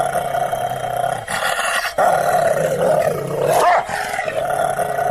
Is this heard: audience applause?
no